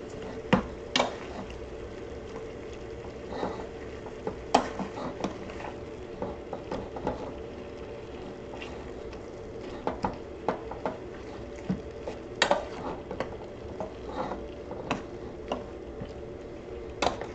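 Kimchi jjigae stew being stirred in a pot over medium heat, with scattered soft clicks and scrapes of a utensil against the pot over a low simmering bed, fairly quiet and irregular, no talking.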